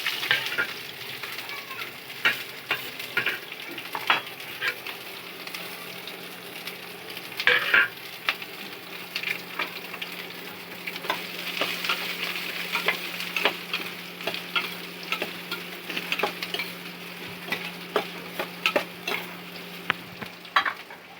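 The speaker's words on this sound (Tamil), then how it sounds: "வெங்காயம், பச்சை மிளகாய் ஒன்றாவே போட்டுடலாம்." Chopped onion and green chili sizzle steadily in a hot pan while a spoon repeatedly scrapes and stirs. The frying is close and continuous, with frequent sharp clinks of the utensil throughout.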